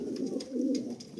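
A pigeon of a large breed kept for sale gives a soft, low coo, a brief throaty warble close by and fairly quiet, with no talking.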